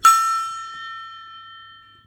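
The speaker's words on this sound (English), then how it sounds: "And that gong is for the haters." A single gong is struck once, giving a bright metallic clang that rings on in a clear sustained tone and slowly decays over about two seconds.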